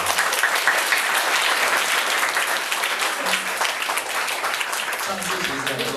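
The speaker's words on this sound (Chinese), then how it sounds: "我们首先热烈掌声欢迎黄国昌老师" An audience claps warmly to welcome a speaker at a philosophy talk event, a dense, sustained round of applause that stays loud throughout and thins only slightly near the end.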